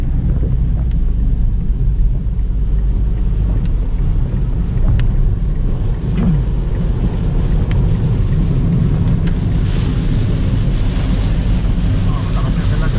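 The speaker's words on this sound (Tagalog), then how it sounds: "Malakas ang ulan. Grabe, malakas ang ulan." Heavy rain pounding outside on a dark roadside near the sea in San Fernando, Sorsogon, a dense, loud, continuous roar with rumbling low noise throughout and faint clicks, without any words spoken.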